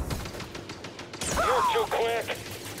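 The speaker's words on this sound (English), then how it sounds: "You're shooting your own guy!" Blaster gunfire in Star Wars Jedi: Fallen Order, a quick burst of sharp zapping shots up close, followed by a wavering voice-like cry and more action noise.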